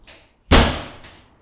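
A door slams shut with a loud, heavy thud that rings out and fades over about a second, preceded by a faint brief noise, with no talk over it.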